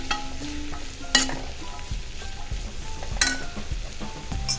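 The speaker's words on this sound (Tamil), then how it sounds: "லைட்டாக கிளறி விடுங்க." Green peas fry in a pan while being stirred lightly, a soft sizzle running under repeated scraping strokes, with two sharper clatters of the utensil against the pan.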